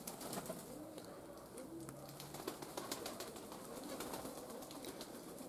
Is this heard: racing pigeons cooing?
yes